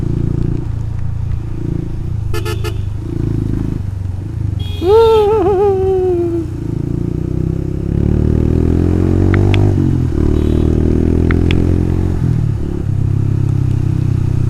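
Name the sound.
motorcycle riding in the rain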